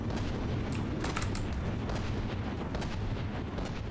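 Cram cannon shells firing in a From the Depths battleship battle: a dense, continuous barrage of heavy booms and blasts, with several sharp louder cracks standing out in the first second and a half, all loud and sustained with no talk.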